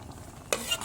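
Quiet kitchen ambience, then a sudden burst of sizzling and scraping as vegetables are stirred into chicken and mushrooms in a hot pot.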